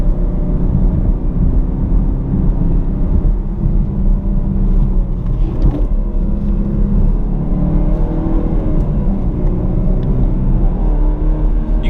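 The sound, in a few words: turbocharged car engine driven hard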